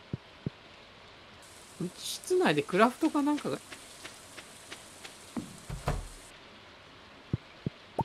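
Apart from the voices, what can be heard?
rain falling in the video game Stardew Valley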